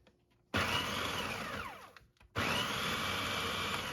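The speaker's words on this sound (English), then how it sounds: "I'm going to pulse this until the cookie crumbs are very fine" A food processor pulsing cookies into fine crumbs runs in two loud whirring bursts separated by a short pause, the blade noise steady and close with crumbs rattling inside.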